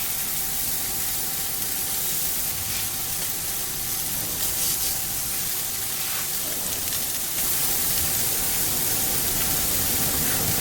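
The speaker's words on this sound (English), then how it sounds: "Got a fair bit of grease coming off those Wagyu burgers." Greasy Wagyu burgers sizzle on a Coleman Revolution BBQ grill, giving a steady, dense hiss like spray or rain that runs continuously and close, with no talking.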